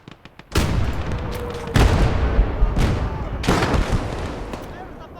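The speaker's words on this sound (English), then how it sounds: "They're trying to shoot at us." Heavy gunfire and booming artillery in a wartime battle game, several loud bursts roughly every second crashing over a dense, continuous rumble of combat.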